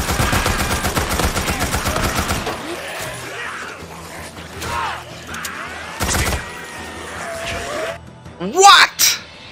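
Days Gone gunfire at a horde: a loud, rapid burst of automatic fire for a couple of seconds, followed by scattered single shots, screeching creatures and chaotic game noise, with someone talking over parts of it.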